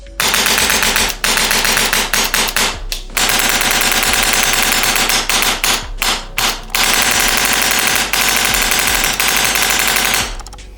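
A mechanical airsoft rifle fires rapid bursts of sharp, dense clattering shots, close and loud, with brief pauses between strings of fire.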